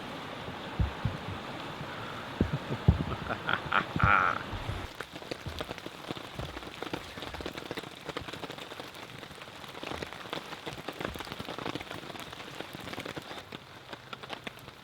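Steady rain from a thunderstorm patters on a surface close by at a campsite, a dense continuous hiss with scattered louder drops, no voices.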